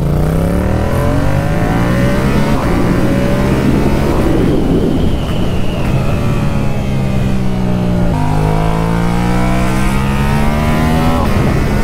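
An unrestricted Yamaha MT-07 motorcycle engine revs loud and close, rising and falling through several pulls with a steady throaty drone between them, alone with no talking.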